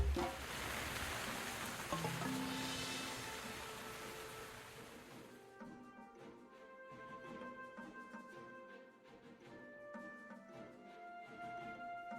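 Steady rain hiss fills the first half, then fades away, leaving soft sustained musical tones.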